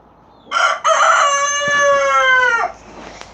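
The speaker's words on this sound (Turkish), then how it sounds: "tavuklarımız çok tatlılar" A rooster lets out one loud, close crow, a short burst followed by a long drawn-out note, with a faint cluck afterward.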